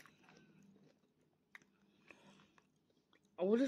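Soft, close chewing and biting of a sausage sandwich with tomato ketchup, a few quiet mouthy crunches spread out, ending in a brief louder vocal burst.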